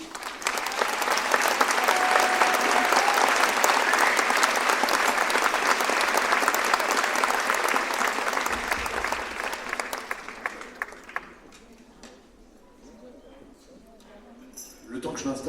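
A large audience at a New Year's greetings event in Belfort breaks into sustained, dense applause welcoming the performer Tibbs, loud and steady for about eleven seconds before thinning out and fading.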